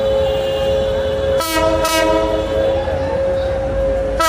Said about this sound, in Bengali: গ্যান্ডারিয়া রেল স্টেশন ছেড়ে খুলনার উদ্দেশ্যে যাচ্ছে খুলনাগামী আন্তনগর জাহানাবাদ এক্সপ্রেস